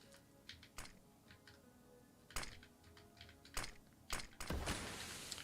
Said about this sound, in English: Current keyboard, I'm using the Fnatic Streak 65.